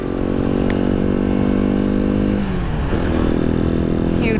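A Halcyon 250 motorcycle being ridden through a Vermont town, its engine droning steadily up close with a harmonic hum that shifts and drops as the rider changes speed, with wind rushing around it.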